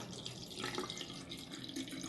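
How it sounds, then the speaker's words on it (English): Ordinary tap water runs steadily into a container while a plant aromatherapy mixture is being made, a continuous mid-level pouring and splashing with no talk over it. "you would add just regular water to it."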